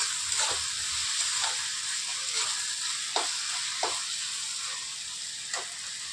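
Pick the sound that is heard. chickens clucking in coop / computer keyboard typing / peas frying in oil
peas frying in oil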